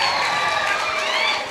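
A college Fresher's Day audience gives steady, dense applause with faint crowd murmur and a few cheers, dipping briefly near the end.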